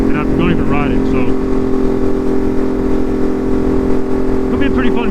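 A Ducati Monster motorcycle with an SC Project exhaust idles with a steady, even engine drone, while someone talks over it for most of the stretch.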